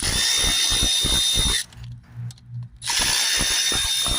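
A ratchet wrench with an E10 socket clicks in quick rhythmic runs on the bracket bolts of a Mercedes ML 250, pausing briefly before the clicking resumes, loud and close.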